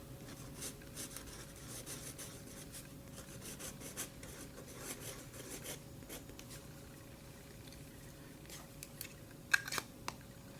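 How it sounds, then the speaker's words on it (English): Quiet, steady scratching of a fine nib pen moving across paper, a soft continuous rub with a few sharper ticks near the end and no voices. "Let me give you a little writing demo."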